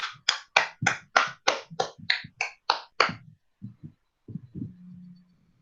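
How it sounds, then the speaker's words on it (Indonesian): A classroom of students clapping in a sharp rhythmic burst of about ten loud, evenly spaced claps, then a few softer scattered claps and a brief low murmur as it fades. "kita beri tepuk tangan dulu ya kepada siswa yang aktif"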